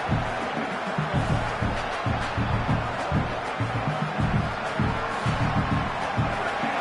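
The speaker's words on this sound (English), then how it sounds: "this crowd trying to help this defense rise to the occasion" Stadium crowd in a college football video game facing Notre Dame, a steady broad roar of fans rising on fourth down, with thumping low rhythmic pulses under it, loud and continuous throughout.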